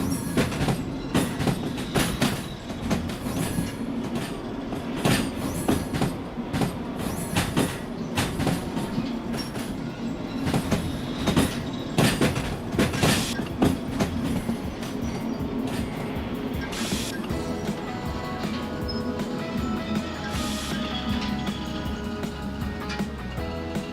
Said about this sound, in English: Just kind of let the locomotive coast back on that way while we get this train car moved into position